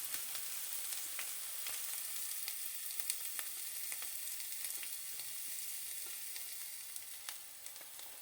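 Onion and a piece of hot bonnet pepper fry in a pot with a faint, steady sizzle. Quiet crackles and scattered clicks of stirring rise over the soft frying hiss, with no talking.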